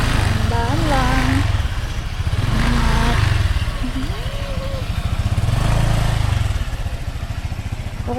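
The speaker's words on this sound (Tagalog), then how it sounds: "mahirap pag may angkas ang motor na madulas ang gulong" A motorcycle carrying a passenger rides slowly on a slippery farm trail, its engine droning steadily up close and rising and falling through the clip, with people talking over it.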